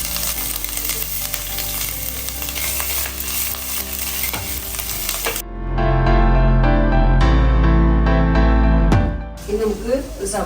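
Crushed ginger and garlic with dried chilies drop into hot oil in a home kitchen, giving a loud, steady sizzle that jumps in strength partway through as the pan flares, with a voice heard over the earlier frying.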